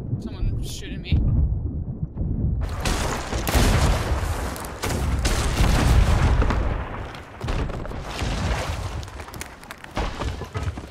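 Gunfire and cannon booms in the Sea of Thieves pirate game, a dense, loud barrage of blasts and crashes that carries on almost without pause, with voices talking over it.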